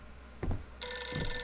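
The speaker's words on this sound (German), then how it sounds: "Telefon läutet." A telephone rings in the horror video game Visage, a sustained electronic bell tone starting abruptly after a brief soft thud, loud and clear with no talking.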